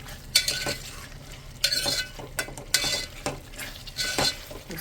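Ginger garlic paste and turmeric stirred into chicken curry in a pot, with bursts of scraping and clinking as the spoon mixes, over a faint background sizzle; close, no talk.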